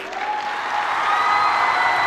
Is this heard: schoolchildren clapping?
yes